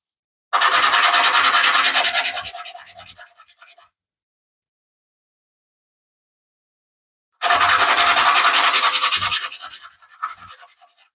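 A pitted shower faucet part being sanded by hand: two separate passes of close, abrasive rubbing and scratching, each lasting about three seconds and fading out, with silence in between.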